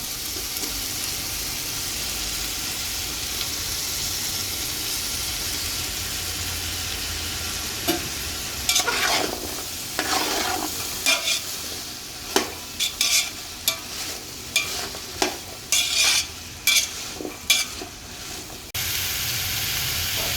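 Capsicum and tomato pieces frying with partly cooked vegetables in a pan for veg biryani, a continuous hiss at first, then a run of scraping stirs and clanks of a spoon against the pan in uneven rhythm.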